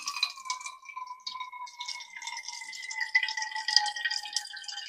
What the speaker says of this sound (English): So what I'm going to do is fill this up at my Berkey.